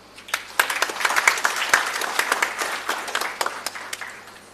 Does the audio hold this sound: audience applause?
yes